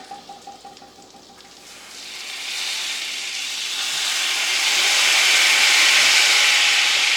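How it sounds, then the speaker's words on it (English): A hiss of white wine hitting a hot pan builds up and settles into a loud, steady sizzle, following a few faint clicks. "I like to normally burn off the white wine, so you're going to hear it sizzle."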